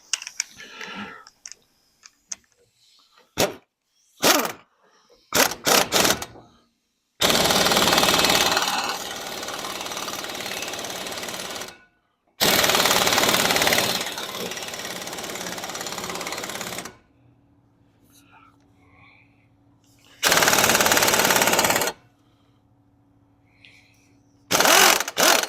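Power tool driving a nut in loud, sustained bursts of a few seconds each to press a car brake part into place, separated by pauses with lighter clicks and clanks.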